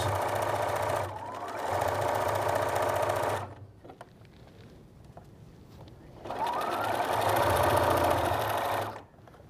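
A sewing machine stitches a half-inch quilt seam in two loud bursts of rapid, even mechanical whirring and chattering, separated by a quieter pause with small clicks and handling sounds.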